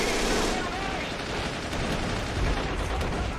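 A tank gun firing armour-piercing rounds in Men of War: Assault Squad, set in 1942 Stalingrad, lost in a steady, loud din of battlefield gunfire with no single shot standing apart.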